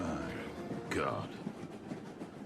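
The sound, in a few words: train carriage sound effect in radio drama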